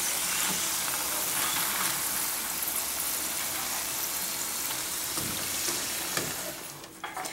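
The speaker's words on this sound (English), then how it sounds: "You just have to fry for 1 to 2 minutes." Tortilla chips fry in hot oil, a dense continuous crackling sizzle heard up close and fairly steady, with faint stirring knocks near the end.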